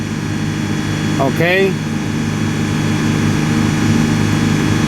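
A 2002 Ford F-150 pickup with a 4.2L engine and a suspected vacuum leak holds steady at about 3000 RPM, a constant loud drone, while a voice speaks briefly over it.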